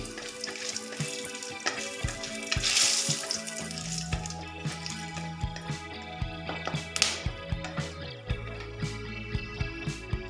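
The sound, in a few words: dry chilli, cinnamon, pepper, cardamom frying in hot oil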